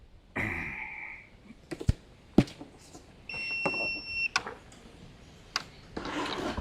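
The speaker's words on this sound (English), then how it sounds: "We got a beep." A Cybertake S2 Pro camping climate-control unit powering on via an EcoFlow AC port gives a clear electronic beep, a short two-tone chirp amid clicks and handling noises, close and moderately loud.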